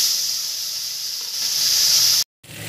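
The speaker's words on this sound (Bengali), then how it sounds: "এবার আলুগুলো ভেজে নেব।" Potatoes frying in hot oil give a steady, close, bright hiss that holds evenly, then breaks off into a short silence near the end before the sizzle resumes.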